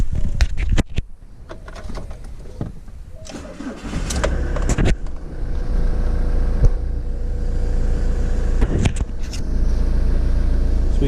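The engine of a 2003 Ford Transit converted from a school bus cranks briefly, catches and settles into a steady, loud idle heard up close, after a few clicks and knocks at the start.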